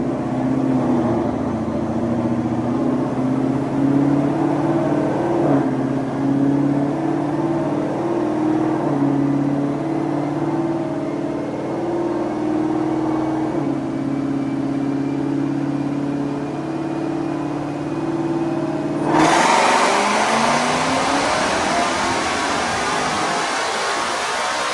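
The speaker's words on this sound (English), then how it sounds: "we made 2 pulls in 6 gear" A 2024 Ford Mustang on a dyno with the stock 375 supercharger pulley, running two pulls in sixth gear. The engine roars loud and steady in a long rising pull, then cuts off abruptly into a broadband rush as the rollers wind down.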